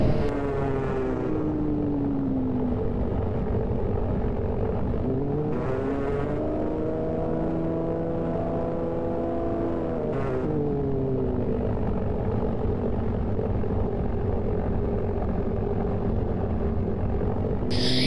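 Steady drone of an aircraft engine in a flight simulator game, continuous and fairly loud, with its pitch sweeping up and down as the throttle is repeatedly adjusted during a landing approach.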